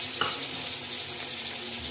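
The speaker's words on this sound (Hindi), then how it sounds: "अब इसमें हम टमाटर डालेंगे।" Chopped tomatoes going into a pan of sautéed onions, sizzling and frying steadily at close range with a small clink near the start, no voices.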